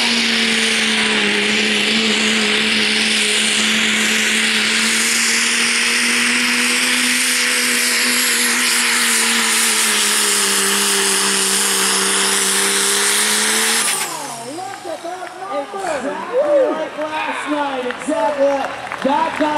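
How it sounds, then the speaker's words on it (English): A diesel pulling truck with unlimited-class power holds a loud, sustained roar as its turbo spools up into a high whine, then cuts off sharply into crowd noise and an announcer's voice at a night pulling event. "He spools it up, to get the turbo singing"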